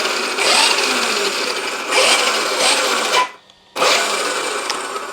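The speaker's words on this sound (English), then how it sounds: "super fast steering with that 9i mod servo" Steering servo on a large RC Porsche 911 car with a 9imod servo, giving rapid buzzing, rasping whirs in repeated bursts with a short silent gap, close and alone.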